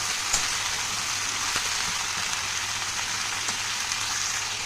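Papaya, potato, eggplant and ridge gourd fry in a pan with a continuous close sizzling hiss, broken by a few faint knocks as the vegetables are stirred.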